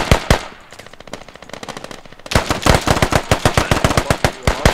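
Machine gun fire in the Squad military shooter game on a rooftop: rapid bursts of loud, sharp shots, a few spaced single cracks, then a quieter rattling stretch before a dense, steady volley resumes up close.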